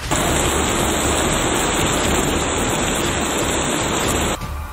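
Heavy continuous rain pours steadily and loudly as a dense, unbroken hiss close by, easing slightly only in the final moment, with no voices.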